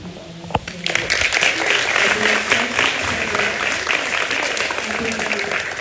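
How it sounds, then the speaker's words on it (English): An audience at a domestic violence awareness event applauds a performance, a sustained, fairly loud wash of clapping that holds steady for several seconds, with a voice talking briefly near the start. "I want to just give another round of applause for our performance."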